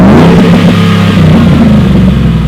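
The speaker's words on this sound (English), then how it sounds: "Magnaflow does make some really loud exhaust, and I will say this exhaust is a little louder than I expected it to be." Magnaflow exhaust on a 2011-14 Ford F-150 with the 5.0 V8 revving, a loud, close, deep burbling roar that stays heavy and continuous throughout.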